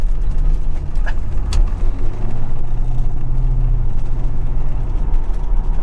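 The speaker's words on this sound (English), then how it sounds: "It's got a dead miss, and it's falling on its face when we hit the gas" A 1980 Corvette with a dead miss on a test drive, its engine running rough with uneven low rumbling and mechanical rattles, loud and close from inside the car.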